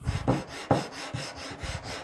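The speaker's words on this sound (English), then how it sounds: "Now we're just going to sand this." Adhesive-backed sandpaper rubbed across a wooden board, a rhythmic series of gritty back-and-forth strokes, about five passes, close and moderately loud with no voices.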